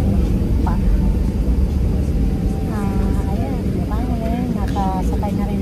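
Steady, loud airplane cabin drone on a flight home to Phoenix, a broad low rumble filling the whole stretch while people talk in the background.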